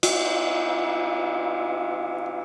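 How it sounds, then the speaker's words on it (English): A thick, drilled Zildjian Constantinople crash cymbal struck once and left ringing, a bright, dense wash that sustains loudly with little decay through the whole clip. "This is the same size, same make, Zildjian Constantinople crash,"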